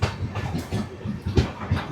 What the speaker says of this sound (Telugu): మన ట్రైన్ అయితే ఇప్పుడు ఖమ్మం నుంచి స్టార్ట్ అయిపోయింది.